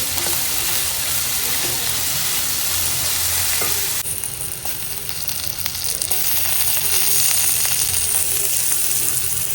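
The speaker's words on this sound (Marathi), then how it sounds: "थोडं मीठ टाकलं लवकर चांगलं भाजलं जातं कांदा" Chopped onion with a little salt fries in a hot pan for chole bhature, giving a steady loud sizzle with brief stirring and scraping noises throughout.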